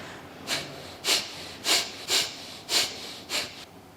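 Six quick, forceful kapalabhati exhalations push out through both nostrils at an even pace of about two per second, each a sharp, breathy nasal puff close to the microphone with quiet gaps between.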